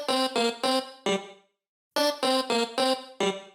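A chopped vocal syllable triggered from a sampler as an instrument, repeated as short, evenly spaced stabs in two bursts of four, each hit the same sound at shifting pitches with a clean gap between the groups.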